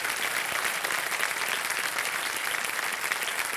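Studio audience of a televised quiz show applauds a contestant, a steady, dense wash of clapping that stays loud and even throughout with no talk over it.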